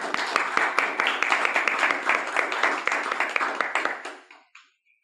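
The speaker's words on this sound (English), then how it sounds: "So I'd like to give them a round of applause for their hard work." A meeting audience claps for volunteers in a dense, sustained round of applause that holds steady for about four seconds, then fades out and ends in quiet.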